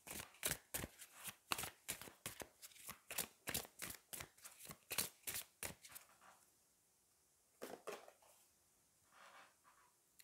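Oracle cards from the Magic of You deck shuffled by hand in a rapid, rhythmic run of crisp riffling bursts, close and clear, then a pause and a few softer card flicks.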